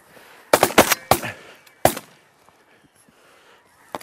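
Shotgun blasts during waterfowl duck hunting outdoors: a tight volley of three or four loud, sharp shots in quick succession, then one more single shot, each ringing out briefly before fading into quiet open air.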